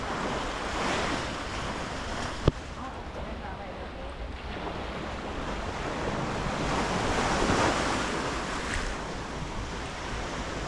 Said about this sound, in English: we're gonna look back at the ocean behind us